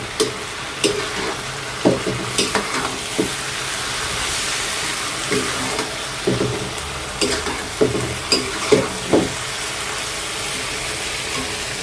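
Shrimp and spice paste frying in a pan, a continuous hissing sizzle broken by repeated clanks and scrapes of a utensil stirring, at close range, no voices.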